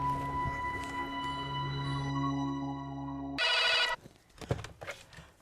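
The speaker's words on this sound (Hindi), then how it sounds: "मैं अभी उसके बाप को फोन करता हूँ, ठीक है?" A telephone ringback tone hums steadily for a few seconds, then cuts to a brief burst of noise and scattered soft clicks and knocks.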